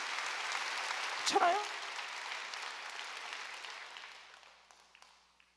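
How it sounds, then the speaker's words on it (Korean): A church congregation at a Wednesday worship service claps in a broad wash of applause that slowly fades away, with a voice speaking briefly near the start. "이게 박수 치라고요."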